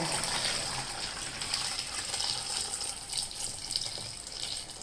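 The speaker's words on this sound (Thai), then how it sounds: "เราก็เอาน้ำเกลือค่ะ ที่เราปล่อยให้เย็นแล้วนะคะ ใส่ลงไปเลยค่ะ" Cooled salt brine poured into a jar of santol fruit packed for pickling, a steady, close gushing splash of liquid that runs unbroken throughout with no talk.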